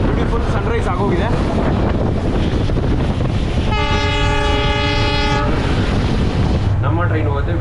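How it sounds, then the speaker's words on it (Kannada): A Vistadome train runs from Bengaluru toward Gokarna through the Western Ghats. It gives a loud, continuous rumble with wind buffeting the microphone, and a long, sustained horn blast sounds midway. Brief voices are audible near the start and end. "ನಮ್ಮ ಟ್ರೈನ್ ಹೋಗುತ್ತೆ ವೆಸ್ಟರ್ನ್ ಘಾಟ್ಸ್ ಒಳಗಡೆ,"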